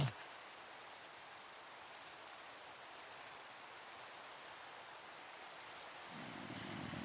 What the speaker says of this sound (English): Remember, whenever it starts raining in Minecraft,